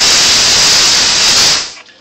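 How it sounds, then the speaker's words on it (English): A loud, steady hiss of air rushing from a hose as it depressurizes and disconnects from a tank, holding strong for about a second and a half before cutting off abruptly into quiet. "You're going to hear a loud psst noise because it's going to be disconnecting from the tank"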